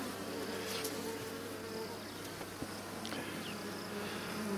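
Honeybees buzz around a hive with a young queen, a dense, steady drone of many insects close by, with individual bees whizzing past now and then.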